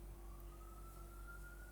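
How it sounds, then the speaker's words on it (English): A faint, distant siren wails steadily outdoors, a thin sustained tone over a low background hum with no voices. "Yeah, we got sirens."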